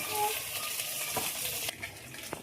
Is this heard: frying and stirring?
yes